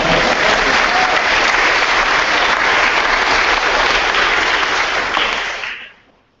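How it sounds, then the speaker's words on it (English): Loud, sustained clapping from a large audience at a public talk in Perth, a dense wall of applause that holds steady for several seconds before fading quickly. "Clap for that."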